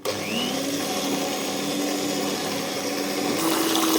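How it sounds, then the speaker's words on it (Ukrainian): An electric mixer whirs steadily while beating Easter paska dough mixed with vodka, a constant motor drone with a slight rise in pitch near the end, close and alone. "тепер це все переб'ємо і вилимо в дрожджі"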